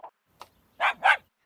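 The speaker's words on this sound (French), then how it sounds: "Un chien." A cartoon dog barks in a children's animated show, two loud close barks after a couple of short faint yips, with no talking.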